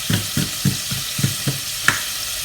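Butter sizzling in a pan for French onion soup, a soft steady fry broken by about seven evenly spaced scraping stirs at close range, with no voices.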